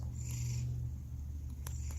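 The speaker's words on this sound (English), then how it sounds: "the very loud purring" A cat purring very loudly and steadily at close range, a deep continuous rumble that holds for about two seconds with no voices over it.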